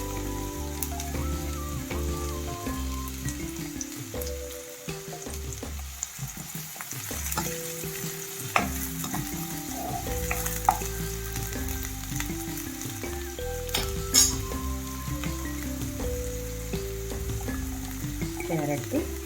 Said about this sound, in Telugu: నూనె వేడెక్కాక ఇవన్నీ వేయించుకోవాలి. ముందు ఉల్లిపాయ వేయించుకుందాం.